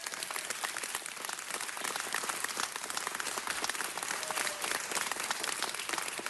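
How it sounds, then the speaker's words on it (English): A crowd at a city council meeting gives a continuous round of applause, even and sustained, heard from a distance and fairly quiet overall. "Let's give them a round of applause."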